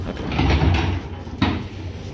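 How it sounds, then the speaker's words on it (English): Kone hydraulic elevator doors slide shut at Southwest Florida International Airport, a smooth rumbling glide followed by a soft thump as they meet, fairly close and moderate in loudness with no talking. "We'll watch the doors close now."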